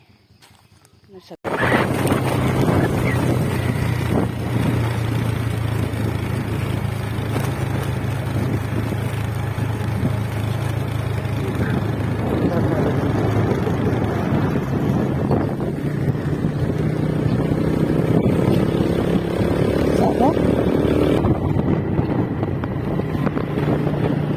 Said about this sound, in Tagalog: pinapainit lang ni kapatid yung motor.